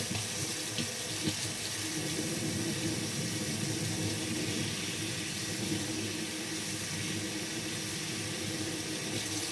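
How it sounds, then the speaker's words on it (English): Hot water gushes steadily from a tap into a sink, a loud continuous rushing stream that holds unbroken throughout with no voices over it. "I'm gonna wait for hot water to come first."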